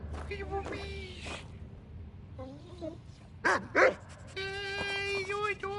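Puppies in Skyrim Dawnguard whimper and yip in high, wavering cries, with a few sharper barks near the end, close by and clear against quiet background game ambience.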